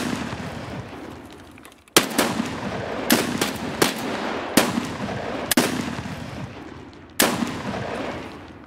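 Gunfire in the shooter Escape From Tarkov: six or so sharp, loud single shots spaced irregularly over several seconds, each with a reverberant tail over low background rumble.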